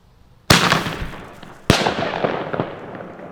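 Two sharp bangs of small butterfly firecrackers at the Las Fallas festival in Valencia, each followed by a crackling, fizzing tail of smaller pops, loud and close with no talking.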